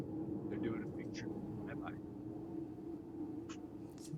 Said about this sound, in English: That is a plane, like directly over my house or something.